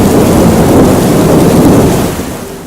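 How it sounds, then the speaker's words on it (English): A thunderstorm with heavy rain, a loud, dense continuous rush of downpour and rumbling thunder close by, easing slightly toward the end, with no voices. "Every day he kept them safe from the harsh storms that thundered in the sky"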